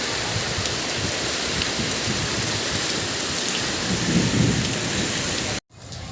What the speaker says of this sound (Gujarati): તો જો વરસાદ થઈ ગયો છે હવે